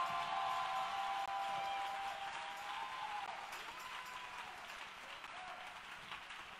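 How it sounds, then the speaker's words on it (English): Steady, dense applause from a crowd at a Memphis tent revival, sustained throughout and easing slightly toward the end, heard at moderate distance with no talk. "Can we clap for this great woman of God tonight?"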